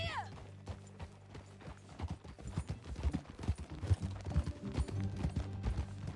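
Horse hooves in the video game Red Dead Redemption 2 clip-clop in a steady trotting rhythm, growing more insistent, with a brief whinny at the start and a voice speaking over them.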